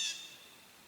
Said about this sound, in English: It sounds like another bird over there.